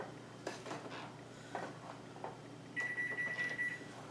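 Dry ingredients for an apple cake are turned in a mixing bowl, making quiet scraping and light utensil clinks, followed by a steady electronic beep in the background.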